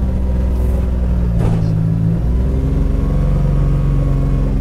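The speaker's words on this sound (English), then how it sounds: "Let's put it on the trailer." A side-by-side UTV engine rumbles and revs as the machine drives up onto a trailer, a close, continuous motor drone with a brief rise in throttle partway through.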